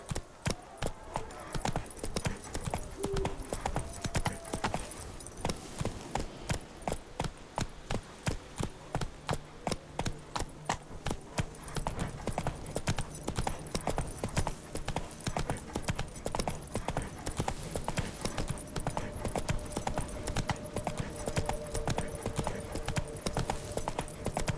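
Roach the horse gallops in The Witcher 3 video game, with steady, rapid hoofbeats drumming clearly throughout and faint tonal ambience underneath.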